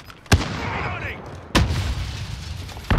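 Three loud, sharp gunshots from Call of Duty: Modern Warfare, the first at the start and the other two about a second and a half apart, each followed by a decaying rumble under faint background game noise.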